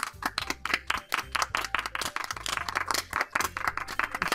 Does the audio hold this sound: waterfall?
no